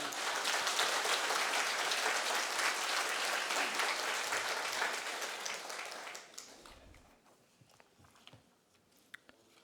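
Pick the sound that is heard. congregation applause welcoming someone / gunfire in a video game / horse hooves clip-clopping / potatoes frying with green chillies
congregation applause welcoming someone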